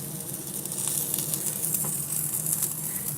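Lobster cooking on a barbecue grill gives off a steady, moderately loud sizzle with faint intermittent pops and crackles as the meat curls and tightens.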